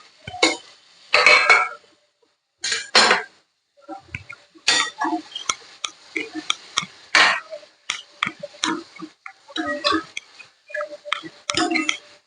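Tomatoes going into a pan with onions while cooking Marathi-style pitla, heard as a series of close metallic clinks and scrapes of a spoon against the pan, irregular and fairly loud, with little talk.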